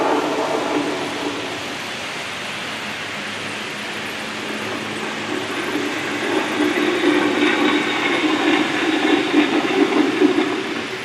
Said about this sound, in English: You got a train crossing the bridge over there.